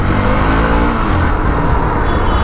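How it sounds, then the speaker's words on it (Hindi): A Hero Xpulse 200 4V Pro motorcycle ridden through traffic, a loud, steady engine rumble with heavy wind noise, close and continuous for a couple of seconds, no talking. "this is how you ride N XPulse pro in a traffic"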